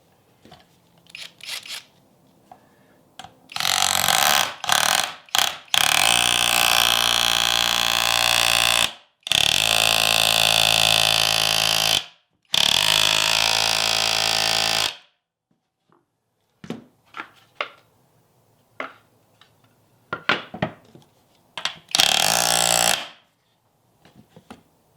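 A Skil 12V cordless auto hammer drives a long, rusty old nail into a raised workpiece, giving several loud sustained bursts of rapid mechanical hammering with short pauses between them and quieter handling knocks around them.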